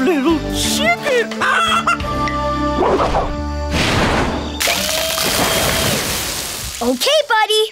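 Cartoon chicken clucking and squawking in a PAW Patrol episode, loud excited bird calls mixed with character voices, whooshing effects and music.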